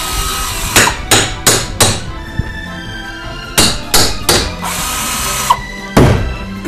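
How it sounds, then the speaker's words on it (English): A hammer strikes a pan to pry its face off, landing sharp metallic blows in quick bursts of three or four, with short pauses between the clusters. The blows are loud and close, and no one talks. "I see what the hammer's for now"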